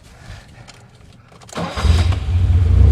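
A 1972 BMW 2002 with a start and run fault cranks briefly and catches, jumping into a loud, rough, rumbling idle close by.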